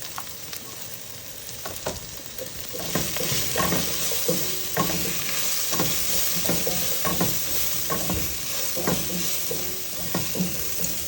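Onions with a little turmeric sizzle steadily in a pan while a spoon stirs them in repeated scraping strokes, the frying growing louder partway through, with no voices present.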